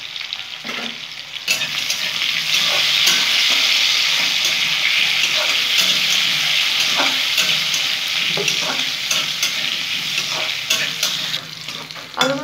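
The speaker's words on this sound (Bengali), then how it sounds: "হলুদ দিয়ে ভেজে নিলাম," Potato pieces frying in oil with turmeric, a loud continuous sizzle broken by repeated scraping and clacking as a utensil stirs them in the pan.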